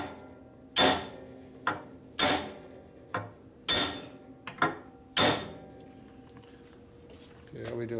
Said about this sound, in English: Okay, where's my hammer? I need a real hammer.